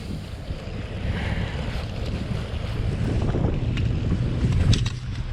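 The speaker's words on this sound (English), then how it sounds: "Oh, it's chilly up here and windy." Steady wind gusting across an open, chilly hilltop reservoir, a continuous broadband rush with low buffeting rumble that holds loud and even throughout, with no voices.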